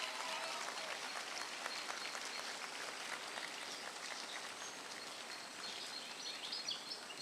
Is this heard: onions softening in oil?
no